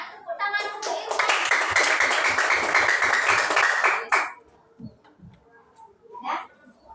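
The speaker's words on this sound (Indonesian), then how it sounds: "Tepuk tangan untuk Irfan." Students in a classroom applaud a classmate named Irfan, a dense burst of clapping lasting about three seconds, preceded and followed by a teacher's speaking voice.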